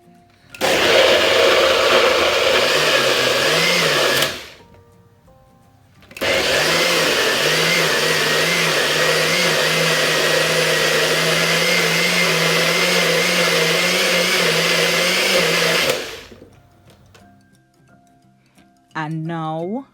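A kitchen blender whirs loud and steady, chopping beetroot and carrot with water: one short run, a brief stop, then a long continuous blend that winds down, with a faint knock at the end.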